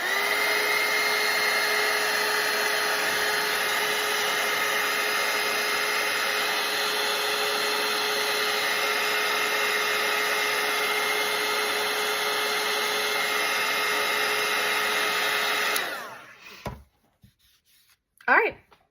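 A hair dryer blows steadily on a watercolour painting for about sixteen seconds, a loud constant whirring hum that cuts off abruptly, followed by a few faint brushing and handling sounds.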